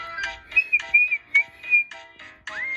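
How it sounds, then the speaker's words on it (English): A cartoon steam engine whistle blows in several short toots followed by a rising, sustained blast, clear and fairly close. "has a whistle that sounds like this"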